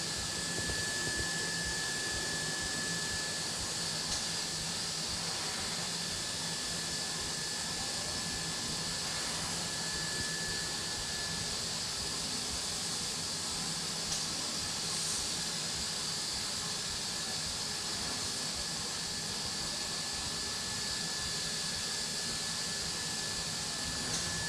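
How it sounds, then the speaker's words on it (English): A DATRON CNC milling machine blows chips off its table with compressed air, a steady broadband hiss that holds constant with a faint tonal whine above it, moderately loud and continuous, with no voices. "we're going to take a little closer look and see how the chips are blown off the table."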